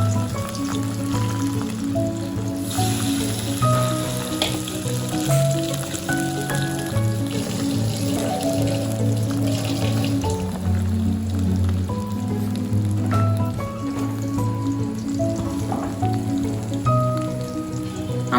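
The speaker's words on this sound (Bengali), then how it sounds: "আমি এবার ট্যাংরা মাছগুলো দিয়ে দিচ্ছি গরম তেলে।" Tangra fish frying in hot oil, giving a steady, close crackling sizzle that runs unbroken for the whole stretch, with faint tonal sounds in the background and no talking.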